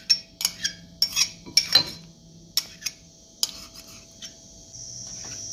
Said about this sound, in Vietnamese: Rồi, mình sẽ quậy tan đều.